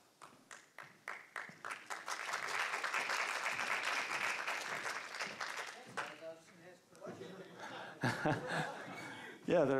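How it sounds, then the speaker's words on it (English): Audience clapping at a talk after the presenter finishes, starting as scattered claps, swelling into sustained applause with some chuckling, then fading as a voice begins speaking near the end. "Yeah, they're clapping for you."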